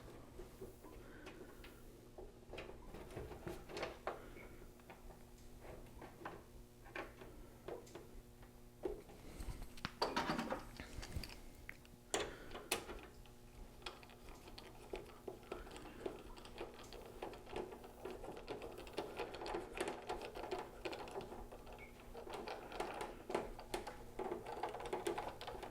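Phillips screws are driven into holes on a pinball machine topper, giving faint, close ticks and small scraping clicks scattered irregularly over a quiet background hum.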